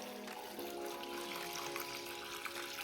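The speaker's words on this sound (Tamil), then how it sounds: "இப்போ தேவையான அளவு தண்ணி விட்டுடலாம்." Water is poured into freshly squeezed lemon juice to make panakam, producing a close, steady splashing pour that runs without break for the whole short moment; nobody speaks.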